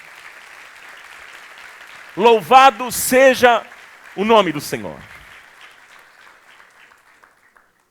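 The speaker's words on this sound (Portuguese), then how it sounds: "Quer aplaudir? Pode aplaudir ao Senhor." A church congregation claps in steady background applause during a service while someone speaks loudly over it in short phrases; the clapping thins and fades to near silence toward the end.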